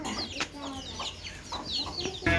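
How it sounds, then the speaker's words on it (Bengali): Chickens and roosters on a village homestead cluck in short scattered calls, fairly close, with intermittent rustling and a burst of noise at the end. "এই যে দেখেন দুইটা মোরগ বাড়িতে"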